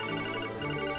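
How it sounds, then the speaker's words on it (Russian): A phone rings in a video game, a steady tonal electronic ringtone that holds evenly for about a second with no talk over it. "Оу, это мой телефон"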